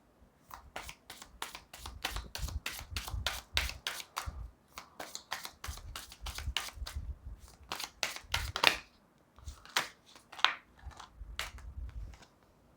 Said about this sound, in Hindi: और भी हम शफल करेंगे, अगर कोई कार्ड आना होगा तो आ जाएगा।